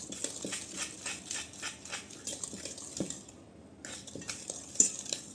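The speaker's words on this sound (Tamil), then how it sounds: "நல்லா கலக்குங்க." Eggless chocolate chip cupcake batter is stirred in a bowl, a spoon scraping and clinking against the sides in a steady rhythm of strokes that pauses briefly midway, close and moderately loud with no talking.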